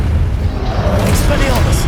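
A fire spell cast in Hogwarts Legacy on PS5, heard as a loud whooshing burst with booming rumble, mixed over dense game combat noise and a voice shouting.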